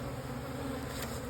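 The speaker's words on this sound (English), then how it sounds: "You wouldn't be able to hear me because of all the bees on the camera." Honeybees swarm around a hive being split, giving a dense, steady buzz close to the microphone, with no voices.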